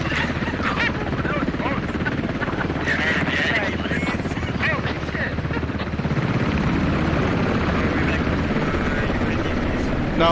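Helicopters in a military video game, Russian and British choppers heading for Stepney, beat loudly and continuously in a dense rotor drone throughout.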